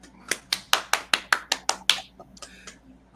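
About nine sharp, evenly spaced hand claps ring out close and loud in a quiet room, then a few softer, ragged claps trail off at the end.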